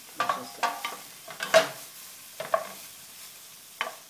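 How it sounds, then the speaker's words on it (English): Chopped garlic sauteing in a pan for a four-person rock shrimp risotto: short, separate bursts of spoon scraping and light sizzle come at uneven intervals, close and fairly loud, with quiet gaps between. "They're sauteing nicely."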